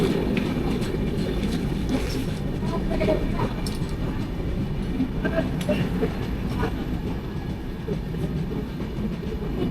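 A train running on rails between Ahmedabad and Vadodara, heard from inside as a loud, continuous rumble with rhythmic clickety-clack of the wheels throughout.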